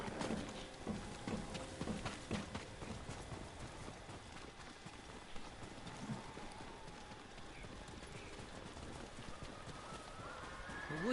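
Horses in the video game Ghost of Tsushima trotting with rhythmic clip-clop hoofbeats and occasional whinnies, faint and steady throughout, over quiet ambient game sound.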